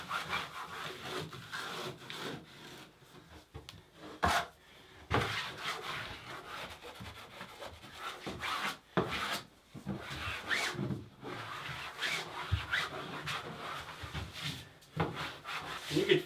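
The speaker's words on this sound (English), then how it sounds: "then you can just use your putty knife to squeeze out any additional thin set and air pockets" Putty knife pressed and dragged across Schluter Kerdi membrane over drywall, squeezing out thinset: repeated scraping, rubbing strokes with brief sharp swipes, close and moderately quiet.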